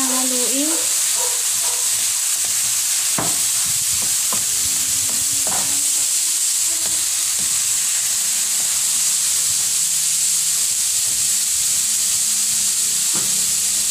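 Shanghai big head fish fries in a pan with a continuous hissing sizzle while a utensil stirs it, scraping and clinking now and then close by.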